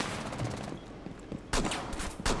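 Gunfire in Rainbow Six Siege, a couple of sharp distant-sounding shots cutting through low background game noise.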